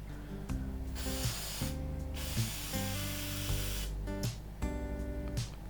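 Bursts of waterbased spray paint hiss in short repeated blasts into a cup, with a steady musical background playing underneath.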